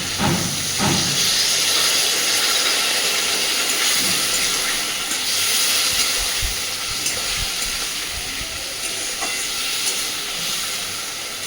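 Chili powder masala sizzles and hisses loudly in a hot pan as a little water is added for a fish curry with potato and eggplant, a steady steamy crackle throughout with no talk.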